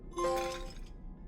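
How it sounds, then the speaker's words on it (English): Plates shatter in Five Nights at Freddy's: Security Breach, a single sharp crash of breaking crockery with bright ringing shards that quickly fade, heard alone and fairly close. "Smashing 10 sets of plates to get the Oppa trophy."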